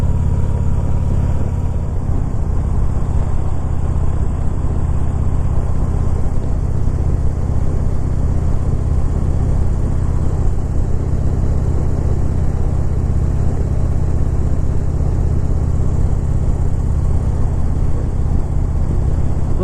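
A motorcycle cruising through Joshua Tree National Park, its engine a steady, close low rumble mixed with constant wind buffeting that runs unbroken the whole way, with no voices.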